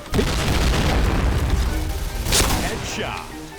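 A loud, rumbling blast fills the clip with a dense, sustained roar and crackling debris, a grenade explosion in the game Point Blank, with a voice speaking over it.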